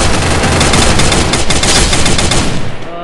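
AK-47 automatic fire in the shooter game Free Fire rattles out in loud, rapid continuous bursts, close and dense, with no talking over it.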